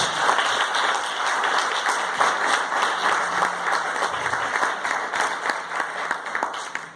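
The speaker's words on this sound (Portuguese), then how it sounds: "Salva de palmas para Jesus, excelente." A classroom audience at a Bible school session breaks into lively applause, individual claps standing out sharply over the crowd's steady clapping before it tapers off.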